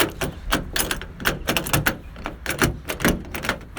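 A loosened exterior door handle on a 1994 Astro van is wiggled off the door, producing a steady stream of close, sharp plastic-and-metal rattles and clicks in quick, uneven bursts.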